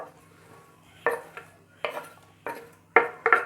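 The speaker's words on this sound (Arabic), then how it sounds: "انا دلوقتي قطعت البصل، احطه بقى هنا بالشكل ده على باقي الخضار" Chopped onion spread over vegetables in a dish for grilled chicken, with a handful of sharp clinks and clatters of a utensil against the cookware, irregularly spaced and close.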